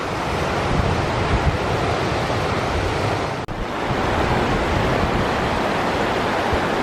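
Loud, constant roar of wind rushing through a mountain valley near Lac d'Arsine, a broad unbroken whoosh with one brief dip midway, no voices.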